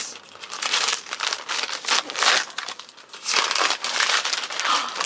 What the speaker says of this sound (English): I'm really excited to unwrap this.